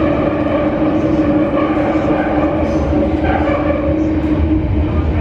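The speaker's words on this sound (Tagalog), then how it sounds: "Look how complex their MRT is." Singapore MRT train in a station, with a loud steady rumble and hum of the carriages and motors throughout, plus faint clicks and brief higher squeals.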